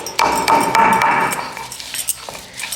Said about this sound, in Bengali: এই নিম পাতাগুলোকে এবার আমি শিলনোড়ার সাহায্যে বেটে নেব